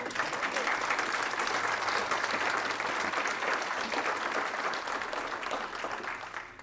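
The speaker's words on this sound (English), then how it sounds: "So, can everybody give them a round of applause?" An audience at a Human Rights Day awards ceremony applauds the event organizers, a thick continuous patter of clapping that holds steady for several seconds and eases slightly toward the end.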